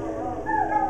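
A dog whines or howls in a drawn-out, high tone in the second half, over a low steady background hum.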